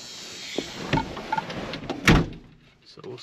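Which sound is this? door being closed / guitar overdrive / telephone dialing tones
door being closed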